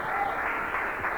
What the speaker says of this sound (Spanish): Démosle un aplauso de victoria al Señor.